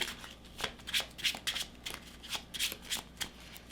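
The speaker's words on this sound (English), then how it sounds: "We'll just shuffle that in here with the rest of the cards." A deck of cards being shuffled during a game of the Cartographers board game, a quick run of crisp riffling bursts close to the microphone, with no talking.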